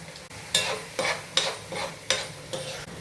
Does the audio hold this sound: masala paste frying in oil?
yes